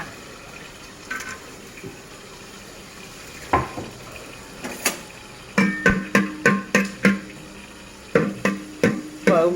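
Whole spices, cinnamon, star anise and two cardamom pods, crackle and pop in hot coconut oil for a Kerala-style pearl spot fish curry, with sharp irregular spits clustering into quick bursts over a faint background sizzle.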